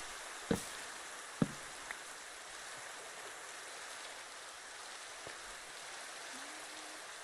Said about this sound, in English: I heard the rain and thought it was another creeper.